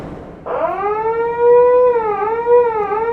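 Warning siren sounding at a canal lift bridge by Lock 2, a loud rising wail that starts abruptly and holds a steady, slightly wavering tone close by.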